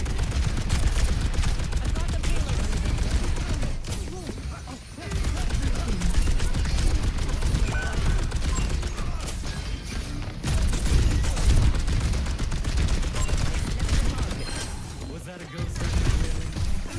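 Rapid, sustained gunfire with crashing impacts fills a match of Overwatch, loud and nearly continuous with brief pauses, under occasional player talk.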